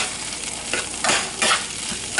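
Hash brown mixture frying in a pan on a stovetop, a close, steady sizzle with a few brief louder crackling swells, no talking.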